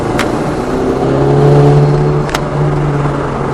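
A Honda Civic Type R FK2 accelerates along an open road, the engine note rising into a strong, steady drone heard from inside the car, with a couple of brief clicks.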